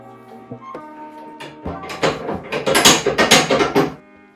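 A 118-year-old antique sewing machine running unoiled, close clattering and ratcheting mechanical clicks that speed up into a busy rhythmic rattle.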